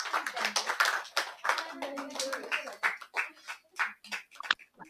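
Participants at a weekly meeting clapping, fairly sparse and uneven, with scattered individual claps and some voices in the background.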